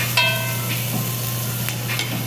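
Vegan casserole filling frying in a pan as residual heat finishes it, giving a steady, moderate sizzling hiss over a low hum, with no voices.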